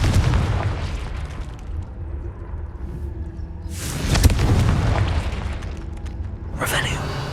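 Spell blasts in the Hogwarts Legacy video game, with fire-type Confringo explosions set in a cave: a loud booming burst near the middle and a sharper blast near the end, over a rumbling game background.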